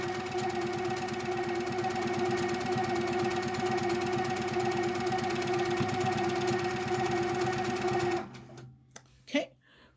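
A sewing machine quilting a scrap quilt runs in a steady, rapid mechanical whir for about eight seconds, then stops abruptly, followed by a few faint clicks and handling sounds. A person talks over it.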